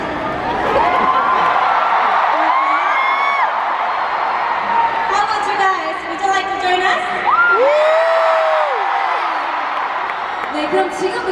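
A large concert crowd at KCON 2018 in Los Angeles roars and whoops continuously, with high shrieks rising above a dense wall of cheering that holds loud and steady throughout.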